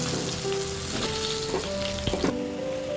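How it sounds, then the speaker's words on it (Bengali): Potatoes frying in hot oil tempered with cumin, bay leaf and dried chilli sizzle loudly and continuously, close up, with occasional stirring scrapes and pops and no talking. "আলুগুলো দেখো একটু ভাজা ভাজা হচ্ছে"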